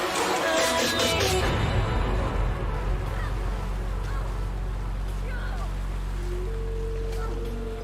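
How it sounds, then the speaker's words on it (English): Flocks of goose-like birds honk repeatedly in the World of Warcraft video game, the calls sitting over loud, steady game ambience with a low rumbling bed. "Who brought all these goddamn birds here?"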